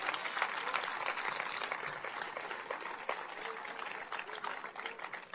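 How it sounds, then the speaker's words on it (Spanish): A congregation claps during a church service, a sustained, fairly even patter of many hands at moderate distance, continuing without a break and fading slightly toward the end. "Denle un aplauso al Señor Jesucristo."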